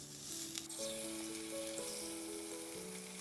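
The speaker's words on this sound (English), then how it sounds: "it looks like the oil is hot enough for pan frying" Catfish nuggets sizzling steadily in hot oil in a pan, a continuous crackling hiss with a faint tonal hum underneath.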